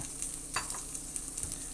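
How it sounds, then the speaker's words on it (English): Pupusas sizzle on a hot griddle with a steady crackling hiss and a few soft scraping touches. "I know that usually the sizzle is too loud."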